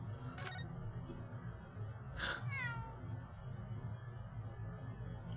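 A cat meows twice in the Great Ace Attorney Chronicles video game, a short call near the start and a clearer rising-falling meow around the middle, set over a steady low background music bed.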